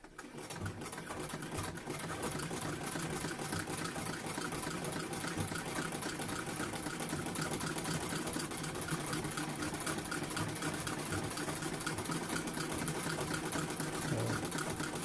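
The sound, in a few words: sewing machine running with Revco reverse attachment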